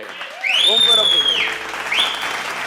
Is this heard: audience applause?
yes